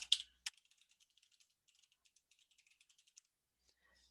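Someone types on a computer keyboard, with a few louder opening keystrokes followed by a quick, light run of soft clicks, close and quiet in an otherwise silent room.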